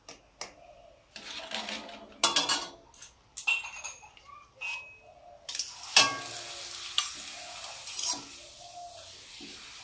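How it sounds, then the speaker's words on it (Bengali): Papad frying in a pan in a home kitchen, giving bursts of crackling sizzle with sharp clicks and scraping stirs, loud and close, with quiet gaps between the bursts. "পাঁপড় গুলো ভেজে নিচ্ছি"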